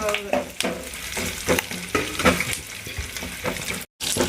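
Cashews and raisins frying in ghee for shirkhurma, a spoon scraping and clinking the pan in repeated strokes over a crackling sizzle, close and fairly loud, ending with a brief cut to silence.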